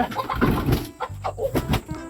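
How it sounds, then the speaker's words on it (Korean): A hen clucks repeatedly close by, a run of short throaty notes in an uneven rhythm, with no talking. "얘 암탉이지?"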